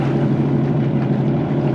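A 2023 Yamaha Superjet stand-up jet ski ridden at low RPM during break-in, its engine droning steadily and close with a constant low hum and wind rush, no talking.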